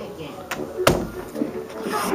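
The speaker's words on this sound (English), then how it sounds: "I close the door." An indoor door swings shut with a single sharp knock partway through, while a person talks nearby amid faint household background noise.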